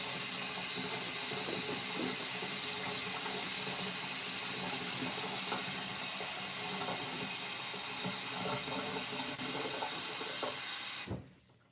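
A household tap runs in a steady, continuous rush into a sink, close and fairly loud, then cuts off abruptly near the end; no one speaks.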